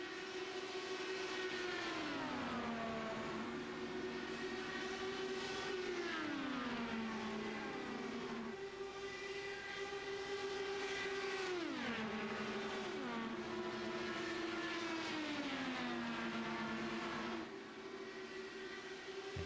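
IndyCar race cars at the CART Kansas 300 scream past on the oval, loud engine drones rising and then dropping in pitch as car after car sweeps by in steady succession, with no talking.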